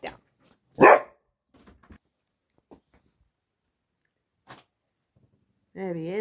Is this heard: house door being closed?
no